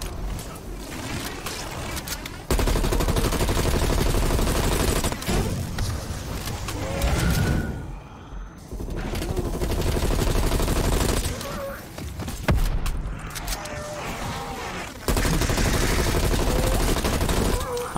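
Sustained, heavy gunfire in Call of Duty Zombies Outbreak comes as long, loud rattling bursts broken by short gaps, with a voice talking now and then.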